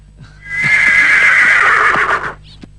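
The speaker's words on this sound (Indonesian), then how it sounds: "Pendekar, kuda sudah siap" A horse gives a loud, close whinny lasting about two seconds, rising and then trailing off, with faint hoof clops around it and no speech.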